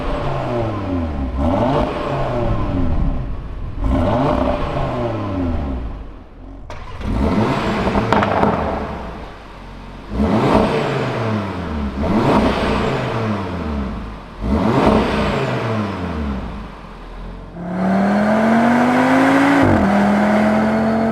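A 2025 Audi RS 3 engine and valve-controlled exhaust revs repeatedly in sharp rising-and-falling blips, loud and close, then settles into a sustained higher-pitched hold near the end.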